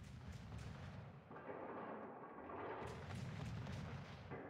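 Heavy naval artillery from warships in the video game World of Warships, a continuous dense barrage of booming gunfire that rolls on without pause for several seconds.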